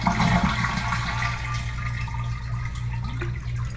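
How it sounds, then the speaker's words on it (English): A household toilet flushes with the tank lid removed, a loud rushing swirl of water draining the tank and then settling into a steady, softer refill hiss with faint trickles, no voices. "you want to flush the toilet to get as much water out as possible."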